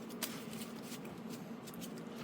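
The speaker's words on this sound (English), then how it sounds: "out of all these cheap ones, shuffle the best" Playing cards in cheap Amazon sleeves are shuffled in a quiet, soft riffle, with a few faint crisp flicks over a low background hum.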